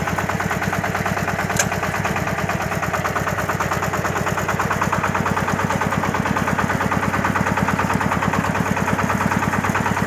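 A tractor engine runs steadily and loudly while sowing a field with a seeder, with a rapid, regular low chugging pulse and mechanical vibration, no voices.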